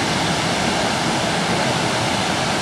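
Floodwater rushes through a river in Ladakh during the 2010 flood, a loud, continuous broadband roar with no pauses or voices.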